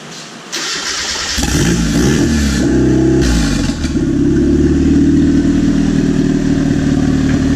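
A small turbocharged kart engine on a dyno starts and settles into a steady, loud running drone with a brief rev, continuous and close throughout.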